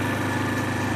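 A 50cc scooter engine idles at high revs, a steady buzzing drone, close and continuous with no pauses.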